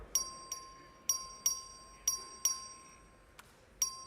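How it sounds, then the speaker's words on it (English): A voting bell rings in a House chamber in a run of about eight sharp metallic strikes at an uneven pace, each leaving a thin lingering tone, fairly quiet and with no talk. "The clerk will ring the bell."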